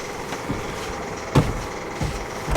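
A skid steer engine runs at a steady low rumble, close by and continuous, with a few brief knocks and thumps over the idle.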